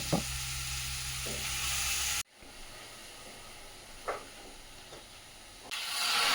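Beetroot sizzles in ghee in a hot wok with a steady frying hiss, broken by a brief cut and occasional soft scraping stirs.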